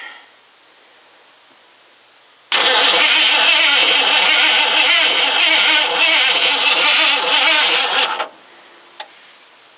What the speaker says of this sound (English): Well, it cranks.